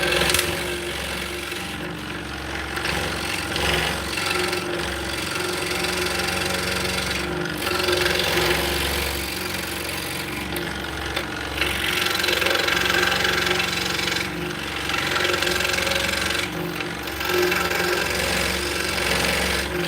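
Scroll saw cutting wood blanks for Turkish drop spindles, a steady buzzing rasp that runs continuously and close throughout, with brief pauses and shifts in pitch as the blade feeds through the workpiece.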